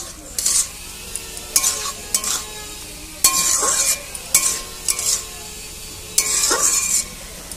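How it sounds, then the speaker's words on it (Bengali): Ginger, chili and mustard paste are stirred in a hot pan, the spatula scraping in repeated bursts over a steady sizzle, loud and close with short pauses between strokes. "আদা লঙ্কা সরষা বাটা এবার এগুলো আমি দিয়ে দিব দেওয়ার পর ভালো করে এগুলো নেড়ে নিব"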